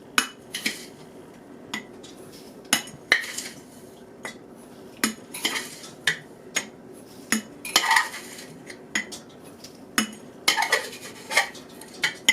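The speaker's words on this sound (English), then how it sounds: "We're going to add 5 cups of sugar. This is a ½ cup, so I will do 10 of these." A half-cup measure scooping sugar into a brine for zucchini hot dog relish, with a steady series of sharp metallic clinks and taps, repeated about every second, close and fairly quiet.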